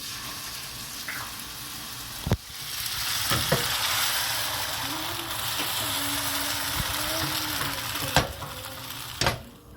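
Butter sizzles steadily in a hot pan while Swedish pancakes are being made, a dense close frying hiss broken by a few sharp utensil clicks and scrapes.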